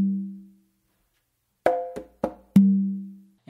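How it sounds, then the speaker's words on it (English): Conga pattern of four notes: a low ringing open tone, then three short sharp slaps and tones in quick succession, finishing on a resonant open tone on the tumba, played alone and close. "you're going to do an open on your tumba."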